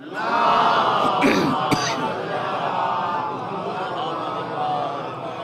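A large congregation at a majlis for the martyrdom of Fatima Zahra chants salawat loudly in unison, a thick wash of many voices that swells at the start and holds steady.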